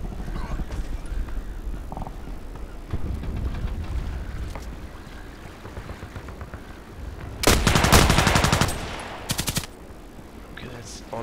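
Gunfire in the online shooter Contract Wars, with scattered shots and thuds under a player's talk, then a loud burst of rapid automatic fire followed by a few trailing shots.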